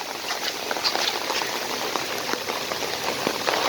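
Heavy monsoon rain pours down in Chittagong on flooded streets, a dense, steady hiss of drops spattering on surfaces, loud and continuous with scattered sharper splashes and no voices.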